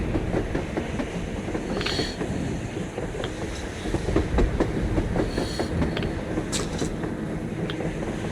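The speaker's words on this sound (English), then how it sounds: "A train! A damn train on the surface!" A train rolls along on the surface in the video game Metro Exodus, a steady rumbling rattle with clickety-clack wheel beats and brief metallic squeals throughout, fairly close and without speech.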